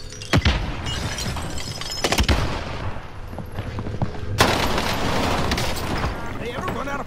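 A stun grenade goes off in a shooter video game amid loud gunshots: sharp cracks early on, then a big bang with a long, harsh ringing tail, while people talk over the noise.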